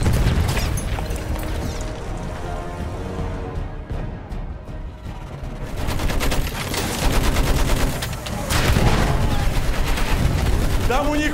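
Dense machine gun fire and gunshots in a Battlefield 1 battle run almost continuously and loudly, swelling into heavier bursts in the second half, with shouted voices mixed into the din.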